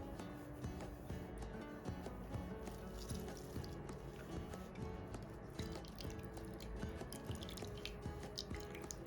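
Melon juice drips and trickles through a fine sieve in a continuous patter of small liquid drops, faint and close, with no voices.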